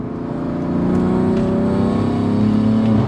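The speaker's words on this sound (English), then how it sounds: "You can hear the turbos." A twin-turbo BMW F80 M3 tuned to 850 bhp pulls hard under acceleration in fourth gear, a loud steady roar with a rising whir layered on top as the turbos spool.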